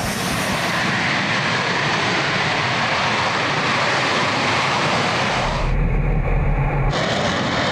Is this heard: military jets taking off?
yes